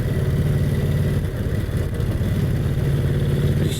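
A Brough Superior SS80 vintage motorcycle engine runs steadily, a loud, close, low thumping drone holding an even pace throughout with no voices.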